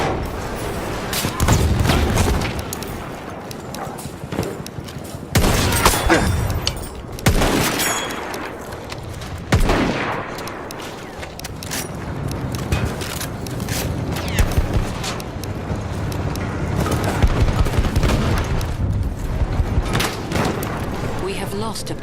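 Grenade blasts and rattling gunfire from a first-person military shooter video game, dense and continuous across the whole stretch, with heavy booms punching through near-constant shooting and in-game voices calling out beneath.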